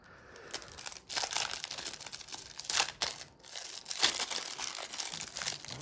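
Close crinkling and tearing of a 1993 Beatles Collection trading card pack wrapper as it is pulled open, with irregular crackly bursts and a couple of sharper rips over several seconds, no talking.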